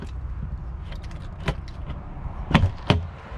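A key rattles and clicks in the lock of a bunk compartment door on a Forest River Viking 21BHS camper, with a few sharp metallic clicks and a latch clunk close by over a low background hum.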